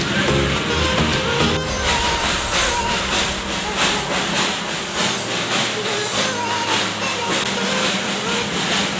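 Darjeeling toy train steam engine running on the Darjeeling to Ghum line, a steady loud hiss and rumble with rhythmic chuffing pulses and rail clatter throughout, with voices faintly in the background.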